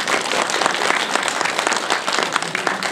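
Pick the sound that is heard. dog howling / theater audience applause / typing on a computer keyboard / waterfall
theater audience applause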